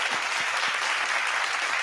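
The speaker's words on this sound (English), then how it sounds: "And the crowd goes wild." Studio audience applause with cheering at a live talk show taping, a dense steady clapping wash that stays loud and even throughout.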